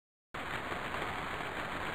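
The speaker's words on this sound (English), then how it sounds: "Rain." After a brief silence, a steady hiss of rain starts abruptly and continues evenly.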